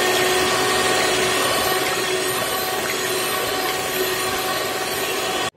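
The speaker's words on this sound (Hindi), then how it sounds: "हम इसे व्हीप करेंगे ब्लेंडर की सहायता से" A blender whips cream for homemade strawberry ice cream, running in a loud, steady whir from start to finish before cutting off abruptly at the end.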